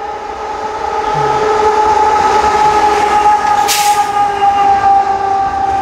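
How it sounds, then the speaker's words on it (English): A train rolls along a railway track beside a lake near an abandoned ghost town, a loud, steady, close rumble with a sustained whining tone that holds for the whole stretch and a brief hiss partway through. "There's a train coming through."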